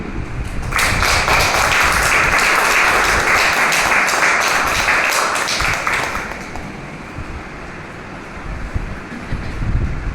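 A keynote audience breaks into loud, dense clapping that swells quickly, holds steady for several seconds, then thins and fades as the room settles.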